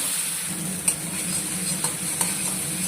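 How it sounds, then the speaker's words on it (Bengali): Spices with salt and turmeric stir-fried slowly over very low heat in a pan, a soft steady sizzle with a few light scrapes of a spoon against the metal, close and alone. "পাঁচ সাত মিনিট এইভাবে খুব হালকা আঁচে কষাবেন"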